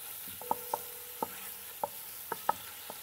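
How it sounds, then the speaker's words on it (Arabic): Vegetables stir-fried over high heat for bulgur with tomato and chicken, heard as a quiet background sizzle broken by a series of sharp, separate taps and clinks from stirring in the pan. "لا، ما هي لسه هتغلي مع الصوص، أنا عايزة أديها تحميرة بس"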